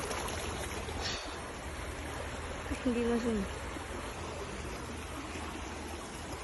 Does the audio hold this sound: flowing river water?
yes